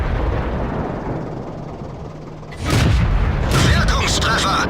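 A tank cannon firing in World of Tanks on a Marder 38T tank destroyer, one loud, close, booming shot that breaks in midway over a rumbling battlefield background, followed by a second crack and a lingering roar.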